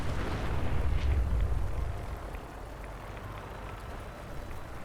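A Mr. Gutsy robot blowing apart in Fallout 4: a deep, rumbling blast swells over the first two seconds and then thins into a long, lower roar that fades out.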